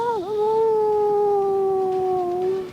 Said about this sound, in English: And the dog howled in the distance.